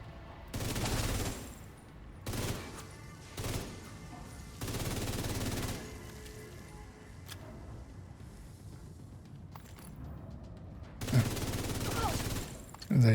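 Bursts of video game gunfire aimed at the player come in several loud clusters of rapid shots, separated by quieter gaps, with a final strong burst near the end.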